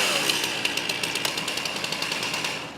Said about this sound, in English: And last, accelerate the saw.